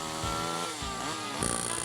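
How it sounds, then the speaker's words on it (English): Chainsaw cutting a notch in a log for a log home, a steady close engine whine with rising and falling pitch as the chain bites into the wood. "Then they flip over the top log and start cutting out the notch with a chainsaw."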